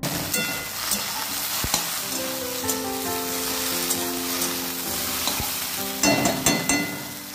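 Bhindi (okra) curry fries in a pan with a steady, close sizzle and faint hum, briefly swelling into busier crackling bursts toward the end.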